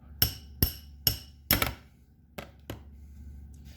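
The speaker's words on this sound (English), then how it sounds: "take something like a brass-tipped hammer or a plastic hammer, preferably, to tap out the rotor from the bearing" Six sharp knocks of a plastic hammer tapping a rotor out of its bearing in an air motor, four in quick succession then two more spaced apart, close and fairly loud against a quiet background.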